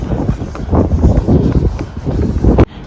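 Strong wind buffets the microphone in a loud, continuous low roar that drops away abruptly near the end.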